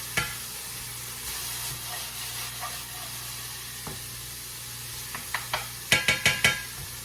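Onions, celery and carrots sautéing in a pan over medium-high heat, a low steady sizzle with occasional soft stirs, then a quick run of sharp spoon scrapes and clacks near the end, with no talking.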